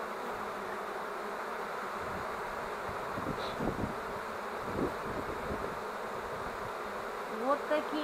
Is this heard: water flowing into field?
no